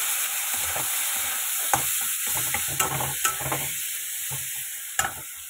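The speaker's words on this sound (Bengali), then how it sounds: "আর এই যে টমেটোটা কেটে নিয়েছি, এই যে দিয়ে দিচ্ছি টমেটোর" Chopped tomato dropped into hot oil with five-spice in a wok, giving a steady close sizzle with scraping stir strokes and a few sharp clinks of a spatula against the pan.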